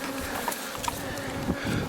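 A honeybee buzzes close by at a pollen trap fitted to a hive beside a flowering phacelia field, a faint, steady hum with small shifts in pitch as it circles, and no talk.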